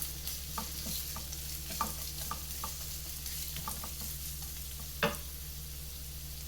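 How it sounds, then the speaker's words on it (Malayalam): Onions stir-frying in a pan for an egg macaroni masala, a steady soft sizzle under a low hum, broken by scattered light scraping clicks and one sharper clack near the end; no one speaks. "സവാള നമുക്കൊന്ന് വാട്ടിയെടുക്കാം."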